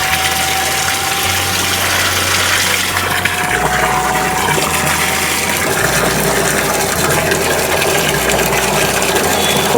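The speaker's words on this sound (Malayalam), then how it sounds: "അപ്പോൾ നമ്മുടെ മോട്ടർ പതിയെ സ്ലോ ആയി വെള്ളം വന്ന് തുടങ്ങിയിട്ട് പയ്യെ ആയിരിക്കും അതിൻ്റെ ഫോഴ്സിലേക്ക് എത്തുക" A small BLDC solar water pump runs with a steady mechanical hum while water gushes and splashes continuously, the flow loud and close and building gradually in force.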